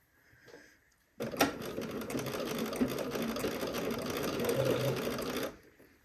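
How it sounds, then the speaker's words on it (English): A sewing machine stitches bias tape onto the hem of a Haskell shirt, running in one continuous, close, buzzing burst of about four seconds that starts and stops abruptly. "let's sew our bias tape in place"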